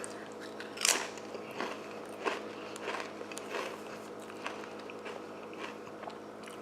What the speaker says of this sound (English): Like most wavy Lays, it has a really nice crunch to it.